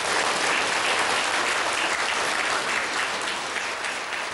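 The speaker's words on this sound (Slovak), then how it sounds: "Potlesk pre vás, samozrejme." A live audience applauds loudly throughout, a dense, continuous roar of clapping at close range that eases slightly toward the end, with no speech.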